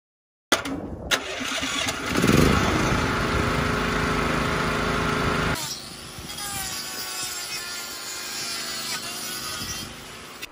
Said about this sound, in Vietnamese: Động cơ này được chạy hoàn toàn bằng nước, nó có thể cắt được cả gỗ, bạn có tin không?